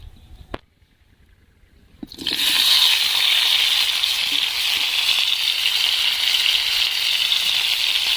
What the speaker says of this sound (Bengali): কড়াইয়ের মধ্যে সরষার তেল দিয়ে দিচ্ছি আলুগুলো ভেজে নেব